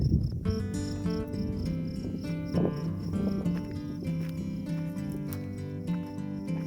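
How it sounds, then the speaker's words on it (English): Crickets and other insects chirp steadily in outdoor grass, a dense, continuous trilling chorus that goes on throughout and fills the scene at close to moderate distance, with no one talking. "Love this time of year just to hear all those bugs in the grass."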